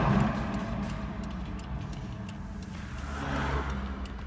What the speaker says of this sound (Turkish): Evet araba çalıştı.